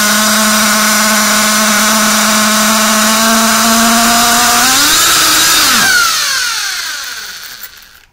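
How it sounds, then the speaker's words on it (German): A HK Basher SaberTooth nitro RC car engine runs a steady, loud, buzzing idle during break-in, then swells briefly and sputters out as it is shut off. "Damit ihr nicht jedes Mal den Sprit neu ansaugen müsst, könnt ihr den Motor abstellen"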